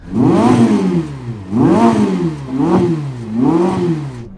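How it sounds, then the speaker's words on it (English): A Ferrari SF90 engine revs four times in quick succession, each rev climbing sharply then dropping back, loud and close with no talk. "rev up the Ferrari."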